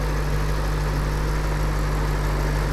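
A stock 2008 Lexus IS F idles steadily and alone, a smooth low engine hum with a strong bass throb holding even throughout without revs or other sounds.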